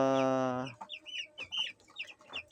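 Young chicks on their fourth day of raising, kept as broilers, give a long steady peep followed by a run of short, close clucking and chirping calls, loud and unaccompanied by talk.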